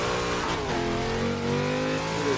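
A car losing grip and skidding around a corner in the rain in Forza Horizon 2, a continuous loud engine whine that shifts in pitch with a hint of tire squeal, heard alone.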